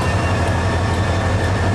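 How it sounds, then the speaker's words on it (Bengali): The Chittagong Mail passenger train gives a loud, close, steady rumble with a low droning hum, continuous and without voices. "এই ট্রেনটা হচ্ছে চিটাগং মেল ট্রেন বলা হয়"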